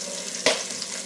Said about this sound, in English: I'm cooking lunch and grease is splattering.